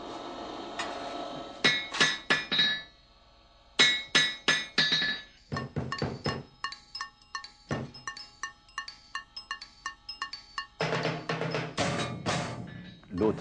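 A blacksmith's hammer strikes hot iron on an anvil, ringing metallic blows landing in quick bursts of three to five, separated by short pauses, loud and close with no talking.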